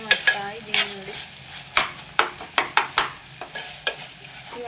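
Food fries in a pan on a home stove, a soft sizzle underneath a series of sharp, close scraping and clacking stirring strokes that land irregularly, roughly two per second, with no talking.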